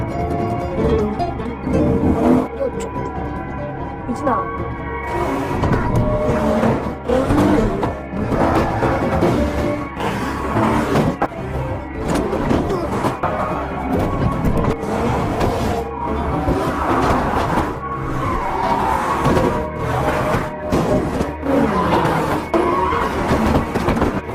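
A car tears along in a chase-style escape scene from the Korean zombie film Peninsula, with constant loud engine roar, tyre skids and a dense action soundtrack running throughout.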